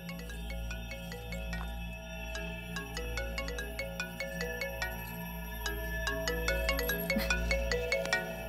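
An electronic phone ringtone plays a repeating melodic pattern, fairly quiet and steady over a low background hum.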